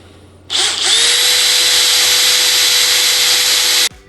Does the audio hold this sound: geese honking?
no